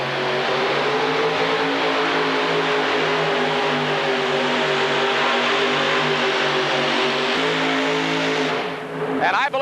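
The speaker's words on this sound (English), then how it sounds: "We'll also watch Bruce, of course, in our final show in the 12 Open with 5 of these engines in there." Modified tractor-pull engines roar loud and continuous at a 1986 indoor super pull in the 12 Open class, a sustained multi-engine drone with a commentator talking over it.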